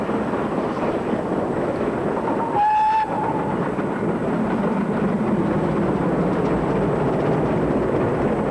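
Great Western Railway Manor-class steam locomotive Hinton Manor rolls past with a steady, dense rumble and clatter, and a short whistle call sounds near the middle.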